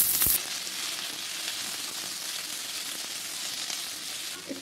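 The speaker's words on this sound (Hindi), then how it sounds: "पहले हम प्याज को अच्छे से सॉटे करेंगे" Chopped onions with cumin sauté in oil in a pan for butter chicken, giving a steady, soft sizzle and hiss, with a brief clatter at the start and no talking.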